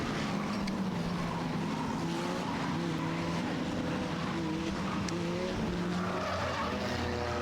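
Six-cylinder enduro race cars run at speed around Star Speedway during a Halloween race, engines droning steadily with rising and falling pitch as cars pass, plus tire skids, loud and continuous with no talk.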